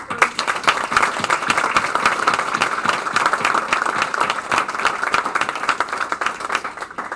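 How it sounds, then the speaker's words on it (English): A retirement ceremony audience for a Navy captain breaks into a round of applause, loud, dense clapping sustained throughout, close by with crowd murmur beneath. "let's do a round of applause"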